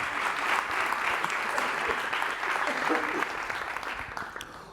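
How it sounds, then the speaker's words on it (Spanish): An audience at a teachers' wellbeing talk breaks into sustained applause. The clapping is fairly soft and distant, and a few voices mix in before it thins toward the end. "Un aplauso."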